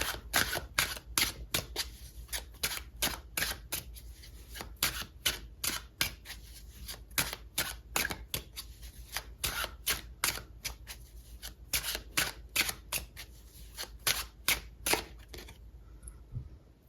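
Tarot cards shuffled and drawn for a love reading, a long run of crisp, rapid card snaps and riffles repeating steadily and close up, with no talking.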